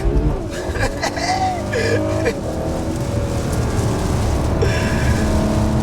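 A Ferrari 12Cilindri's V12 revs hard on an open road, a loud, sustained engine roar with rising and falling pitch sweeps close by, and a voice is heard briefly in places.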